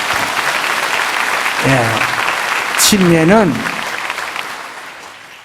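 A church congregation applauds people about to be baptized, the clapping running under a voice speaking in Korean and then French, and fading toward the end.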